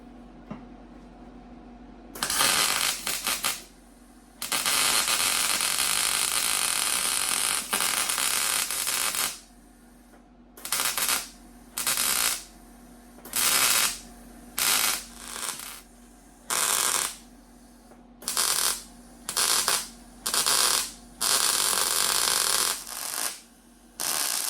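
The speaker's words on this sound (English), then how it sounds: "So what I'm about to do next is start welding it in." MIG welding a floor pan into a 1972 VW Super Beetle: crackling, buzzing weld bursts, one long run followed by many short stitch welds separated by pauses.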